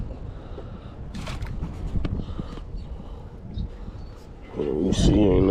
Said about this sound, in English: That wind going crazy, y'all.